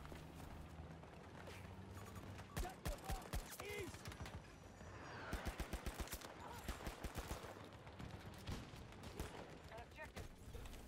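Bursts of video-game gunfire from a G428 weapon crack in short rapid strings over continuous battle noise, with a player talking intermittently in the mix.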